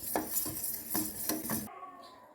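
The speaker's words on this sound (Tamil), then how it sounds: "இந்த மாதிரி கிளறி விட்டிங்கன்னா பால் பொங்காமல் இருக்கும்." A spoon scrapes and clinks against a pot while stirring boiling milk for tender coconut payasam, a few distinct stirring strokes, close and moderately loud, ending in near quiet.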